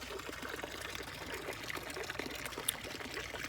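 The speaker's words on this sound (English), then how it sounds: "clean the pond, add some fresh water." Fresh water poured into a garden pond makes a steady, close trickling and splashing that runs evenly throughout at moderate volume.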